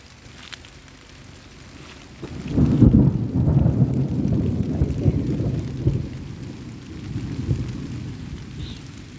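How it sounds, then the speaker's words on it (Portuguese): Low thunder rumbles in rolling waves over a background of steady rain by the Araguaia River in Brazil, swelling loudly partway through and then fading into a lingering grumble. "A chuva passou, mas tá trovejando"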